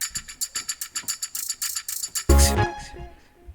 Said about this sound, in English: So now when we put these all together, we have these three shaker things right here.